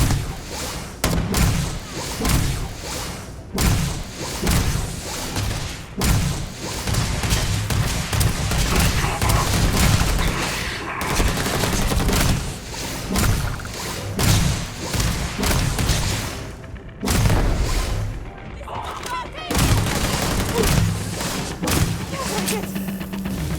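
Sustained gunfire and heavy thumping impacts from combat in the video game Starfield, a dense, loud barrage with repeated shots and booms running nearly continuously, with brief dips between volleys.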